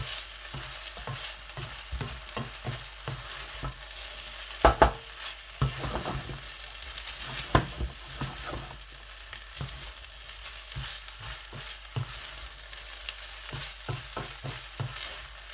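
Chicken fried rice with broccoli being stirred in a pan, a spatula scraping and tossing in an irregular rhythm over a steady low sizzle, with a few sharper clanks against the metal; no voices.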